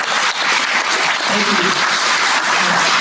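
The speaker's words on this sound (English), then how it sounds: "Give them a round of applause." Loud, continuous applause fills a room at a water summit held in a county event center, a dense wash of clapping from an audience with no pauses.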